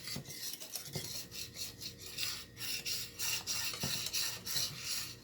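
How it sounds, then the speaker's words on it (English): A whisk scrapes and swirls through Alfredo sauce made with heavy whipping cream in a pan, producing a rhythmic, repeated rasping and rubbing, close and fairly quiet, with occasional soft clicks. "the reason you're using the whisk is so that everything is all blended in"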